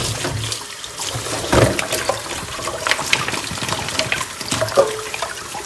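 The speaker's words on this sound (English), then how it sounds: "So first is we're going to wash all our vegetables." Running tap water streams steadily over vegetables being washed, a continuous close splash and trickle with small clatters of handling, no talking.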